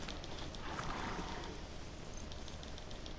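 Horse mount galloping in the video game Horizon Zero Dawn, a steady rush of hoofbeats under broadband game ambience, moderately loud and continuous throughout with no talking.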